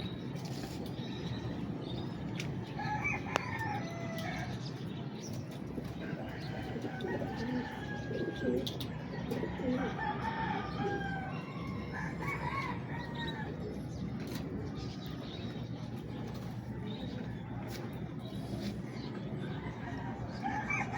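At a pigeon race release site on an overcast morning, a rooster crows and pigeons coo, faint and somewhat distant over a constant outdoor hum, with scattered other bird calls mixed in.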